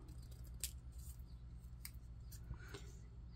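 Scissors snip through card stock in a handful of short, crisp cuts over a low steady room hum, close and fairly quiet, with no talking.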